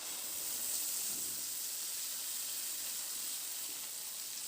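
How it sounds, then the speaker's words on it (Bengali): Spice paste hitting hot oil in a pan for a Bengali kakrol (spiny gourd) paste dish, giving a steady, close, fairly loud hiss and sizzle that holds evenly throughout with no talking. "এবার যে পেস্টটা আমি তৈরি করে রেখেছি সেই পেস্টটা আমি তেলের মধ্যে দিয়ে দিলাম।"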